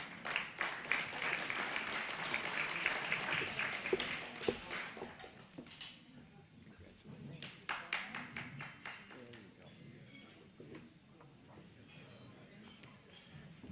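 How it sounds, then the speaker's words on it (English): An audience at a banquet claps in a dense burst that gradually thins into scattered, fading applause, with some murmured voices mixed in. "you can clap for everyone who comes up"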